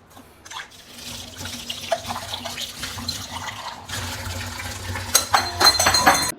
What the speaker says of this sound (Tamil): இன்றைக்கி வந்து என்ன பண்ண போகிறேன் அப்படின்னா வந்துட்டு பாத்திரம் தேய்க்க போகிறேன்